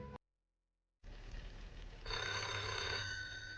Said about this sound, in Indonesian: Angkat dulu teleponnya tuh.